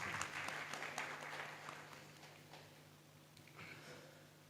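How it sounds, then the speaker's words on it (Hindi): Audience at a classical singing program applauding a singer, faint and fairly distant clapping that slowly fades. "मैं एक बार चाहूँगा कि आप सब सजाद साहब के लिए तालियां बजा दीजिए।"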